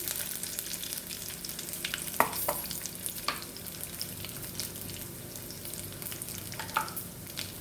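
Chana dal and urad dal fry in oil with a steady crackling sizzle, broken by a few sharp clicks and stirring taps from a spoon in the pan.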